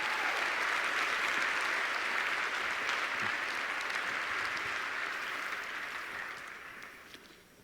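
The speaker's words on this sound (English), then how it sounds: "let's give a big hand of applause to 402 Legal, please" A conference audience claps for a legal organization, 402 Legal, at a keynote: sustained, dense crowd applause fills the room at steady loudness, then gradually thins and fades toward the end.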